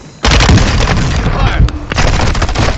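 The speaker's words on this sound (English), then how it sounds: "Friendly airstrike in the AO." Loud, dense battle noise from a military video game with a friendly airstrike: booming explosions and rapid gunfire roar up suddenly and continue almost without pause, with a brief dip near the end.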